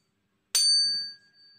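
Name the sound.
256 Hz tuning fork ringing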